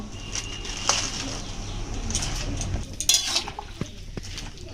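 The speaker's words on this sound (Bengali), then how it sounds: "ভালোভাবে নেড়ে নেব একবার বাঁধাকপিটা নেড়ে দেব জলের মধ্যে" Cabbage is stirred in a pot of salted, turmeric-tinged water, giving soft scraping and sloshing with a few sharper clinks of the utensil and a low background hum, with no talking.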